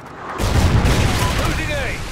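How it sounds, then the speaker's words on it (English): A Trinity rocket strike in Call of Duty: Ghosts, a sudden heavy boom that rolls into a sustained rumbling blast with faint whistling debris, loud and close. "Friendly Trinity rocket inbound."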